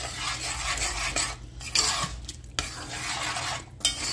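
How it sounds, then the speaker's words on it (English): Beef broth being poured and stirred into a pot for a French onion mashed potato bake, with scraping utensil strokes, light sizzling and a few sharp clinks against the pot, no voices. "then we're going to add some beef broth"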